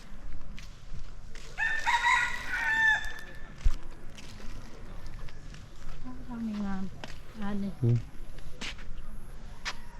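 A rooster crows loudly at a forest temple compound with a stupa, one clear crow standing out near the start, with soft clucks and footsteps following under steady outdoor ambience.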